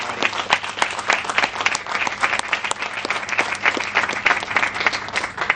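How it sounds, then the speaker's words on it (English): Applause at a groundbreaking ceremony for a transport commerce center, with a crowd clapping steadily and densely for several seconds at a moderate distance. "if we could just give a nice round of applause for everybody"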